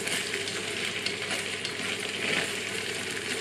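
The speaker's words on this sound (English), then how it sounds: "is give it a quick stir." Chilli con carne stirred in a hot pan, a steady close sizzle and frying hiss with soft scraping from the spoon, continuous and fairly loud with no talking.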